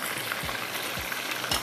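Chicken pieces frying in hot oil give a steady, close sizzle, with a few soft low thumps at regular intervals as the pan is stirred or the pieces shift.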